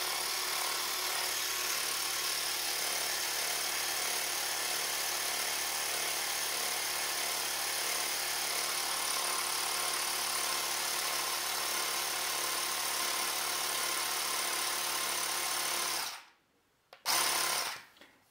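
A Stuart Victoria model steam engine runs on compressed air from a budget portable compressor, giving a steady, continuous mechanical hum close by that holds for most of the clip, then cuts out briefly near the end before resuming.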